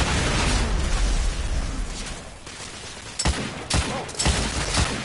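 Rapid bursts of gunfire and heavy impacts from a shooter game set in an alternate Victorian London, The Order 1886, crackling loudly over a dense, roaring battle din, with sharp shots clustering toward the end.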